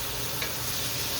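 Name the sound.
mushrooms being stirred and sizzling in a frying pan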